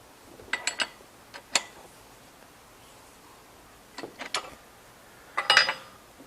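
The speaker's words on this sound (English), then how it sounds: "now I'm going to tighten up the clamp screw" Metallic clicks and ratcheting as the clamp screw is tightened on a Ridgid pipe threading machine: short bursts of a few sharp ticks near 0.5–1.5 s, then another cluster around 4–4.5 s and a denser rattle near 5.5 s.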